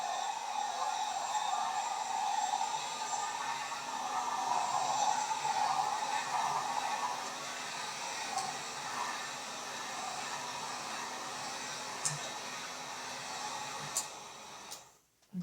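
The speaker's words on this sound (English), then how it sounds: "And I'm going to hit this with my heat gun." A heat gun runs steadily, blowing a constant whooshing hiss over fresh paint on faux rusty metal ephemera, holding loud and even before cutting off near the end.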